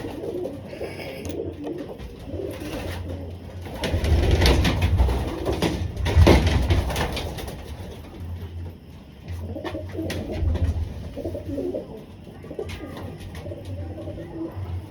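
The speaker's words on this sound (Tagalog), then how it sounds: "eto naman, ibon ni Sir Roland Ramos." Pigeons of MacArthur Clacker bloodline coo repeatedly in low, throaty bursts, close and fairly loud, with some rustling and background noise between calls.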